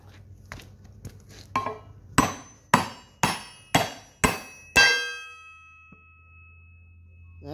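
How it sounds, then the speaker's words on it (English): A dead blow hammer strikes leaf spring overload blocks on a 2011 Ram 2500 pickup, starting with light taps and building to six hard, evenly spaced metallic clangs that ring out briefly, with no talking. "Went to a dead blow hammer and made this much progress, so we'll keep going, see how far"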